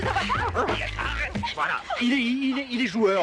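A dog yips and barks in short bursts mixed with whimpering, close by, while someone speaks over it.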